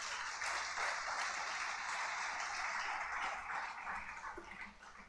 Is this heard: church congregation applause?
yes